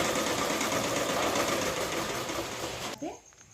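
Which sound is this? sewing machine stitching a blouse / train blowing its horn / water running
sewing machine stitching a blouse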